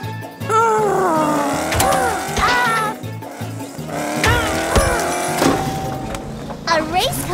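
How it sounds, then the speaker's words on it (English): A cartoon race car revs and zips through a jungle with a revving engine under a busy music score, zany sound effects and voices talking over it throughout. "A race car isn't so fast in the jungle, Orphle"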